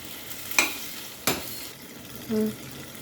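Onions and tomatoes sauté together in a pan for tomato rice, a soft low sizzle broken by two sharp spatula clinks against the metal and a brief scrape.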